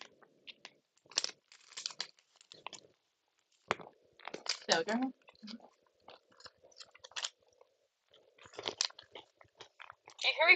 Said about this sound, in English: Do you hear me crunching on nuts?